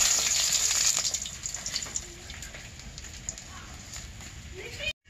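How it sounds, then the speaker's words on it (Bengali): Malabar spinach leaf fritters (bora) frying in hot oil, a steady bright sizzle with crackling pops that holds for about five seconds, then stops abruptly. "এখন এই যে পুঁই শাকের পাতা দিয়ে বোড়া ভাজি।"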